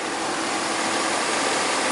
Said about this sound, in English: opening the hood, lets you see the Vortec V8 engine